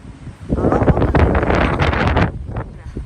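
Wind gusting across a microphone while cycling through open fields in Switzerland on a 16-degree day, loud buffeting roar that swells and fades in uneven bursts, close and dominant.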